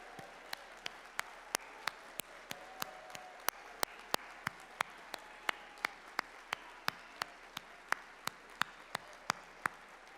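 A small conference audience at AMPA gives steady, sparse applause, with individual hand claps distinctly audible in a brisk, even rhythm that carries through the whole stretch at a moderate, slightly distant level.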